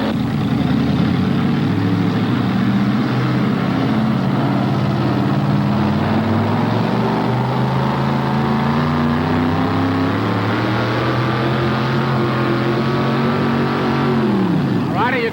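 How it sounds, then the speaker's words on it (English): Modified pulling tractor powered by a Keith Black 426 cubic inch all-aluminum block engine, a loud continuous roar with deep rising and falling harmonics as it runs under load, ending in a sharp drop in pitch; voices talk over it. "He's running a KB 426 cubic inch, all aluminum block, Keith Black engine."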